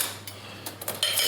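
Cutlery such as knives being set down on a table while preparing to serve a pork roast, a few light metallic clinks and clatters, close and quiet, with no talking.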